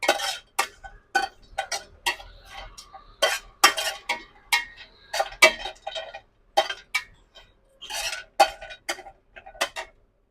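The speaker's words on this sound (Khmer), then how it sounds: "យើងធ្វើការកូរគ្រឿង ឈើអែមហើយនិងផ្កាច័ន្ទរបស់យើង" Repeated scraping and clinking of a utensil against a pan, irregular strokes spaced through the clip, close and fairly clear with no speech.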